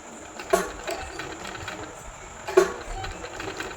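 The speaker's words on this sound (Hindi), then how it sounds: "बिल्कुल किनारे किनारे पे इसकी सिलाई लगा देंगे" A sewing machine runs a line of black-thread stitching along the edge of printed kurti fabric to attach a patch. It whirs low and steady, with a couple of louder clunks, and there is no talking.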